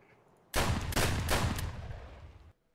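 Gunfire in Escape from Tarkov, a sudden loud burst of rapid automatic shots lasting about two seconds before cutting off abruptly.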